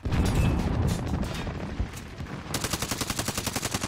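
An automated sentry gun in Call of Duty Warzone fires rapid bursts of gunshots, a loud crackling volley at first, then a fast even rattle of shots, with no voices.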